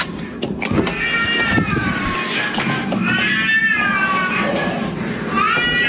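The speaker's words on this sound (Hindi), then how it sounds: "अब बिल्ली कैसी लग रही है यार आवाज?" A cat meows repeatedly with drawn-out, wavering cries, close and fairly loud, punctuated by a few sharp clicks.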